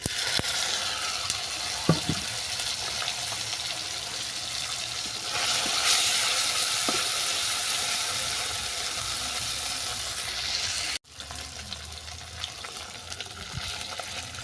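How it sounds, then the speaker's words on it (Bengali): Small fish fry in oil with black cumin, making a loud continuous sizzle that swells when the fish go in, with occasional stirring knocks and a brief cut near the end. "জিরার কালো জিরো ভাজা হয়ে গেছে এরপর দিয়ে দেবো ঝুড়ো মাছগুলো"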